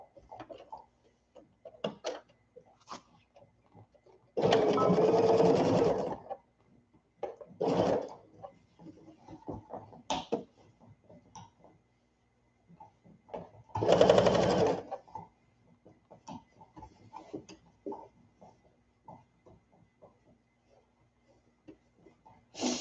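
A sewing machine stitches a baby sunsuit in two loud, close bursts of whirring needle chatter, separated by quieter clicks, fabric handling and small mechanical taps.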